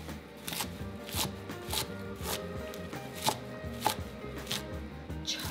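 A knife chops kale on a cutting board in quick, crisp, evenly spaced strokes, close and clear, with no voices.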